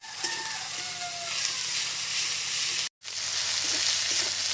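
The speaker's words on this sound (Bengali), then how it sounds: "আদা রসুন বাটাটা দিয়ে আমি আবারও বেশ সুন্দর করে কষিয়ে নিয়েছি" Ginger-garlic paste fries in oil in a pan, giving a steady, close sizzle and hiss with a faint scraping of stirring, briefly cut off for a moment before resuming, with no voices.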